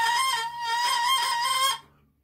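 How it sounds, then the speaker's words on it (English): English horn reed blown on its own, a buzzy, nasal sustained tone held for nearly two seconds, close and loud, then cut off abruptly. "Well, here's what the reed sounds like."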